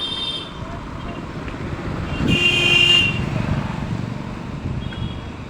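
Traffic flows along a busy main road, a steady rumble of passing vehicles and wind buffeting the microphone, with a brief loud horn blast near the middle and faint distant toots before and after.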